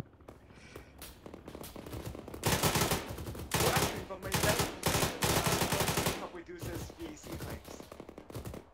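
Automatic weapon fire in the ArmA 3 military game, several loud sustained bursts of rapid shots rattling one after another, close and dominant, with fainter scattered shots before and after.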